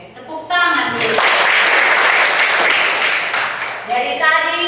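A school class claps hands together in a burst of loud, mixed clapping lasting a few seconds, framed by children's and a teacher's voices talking before and after.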